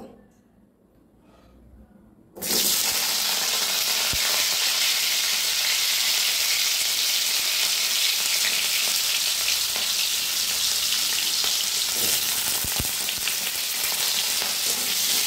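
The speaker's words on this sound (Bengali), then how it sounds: "তেলটা গরম হয়ে গেছে, এবার আমি আলুগুলো হালকা করে ভেজে নেব।" Potatoes dropped into hot mustard oil in a kadai, starting after a short quiet pause with a sudden loud burst of frying that settles into a dense, steady sizzle, broken by a few utensil knocks near the end.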